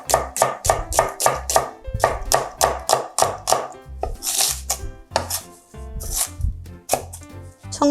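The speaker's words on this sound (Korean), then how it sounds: "양파 반 개는 얇게 썰어줍니다" A knife thinly slicing half an onion on a cutting board, a steady run of quick, crisp chops in bursts with short pauses, close and clear with no talking.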